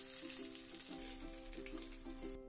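Palak paneer pakoras fry in oil with a soft, steady bubbling sizzle at low volume, a faint hum running beneath it throughout the short stretch.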